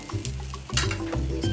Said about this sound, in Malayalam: തേങ്ങ ഒന്ന് ബ്രൗൺ കളറാകുന്നത് വരെ ഒന്ന് വറുത്തെടുക്കാം.